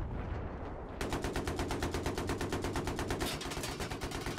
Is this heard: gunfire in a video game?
yes